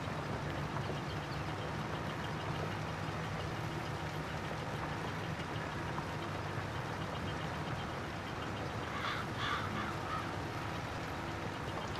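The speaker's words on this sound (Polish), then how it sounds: "Wrony jak zwykle tutaj latają." Crows caw a few times in the farm game Farming Simulator 22, over a steady low engine idle of farm machinery, with the calls clustered briefly near the end.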